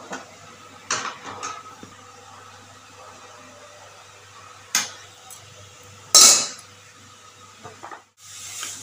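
Carrots for carrot halwa stirred and fried in a pan with milk powder, giving scattered scraping and clinking of a utensil against the pan over a steady background hum, with a few sharper knocks.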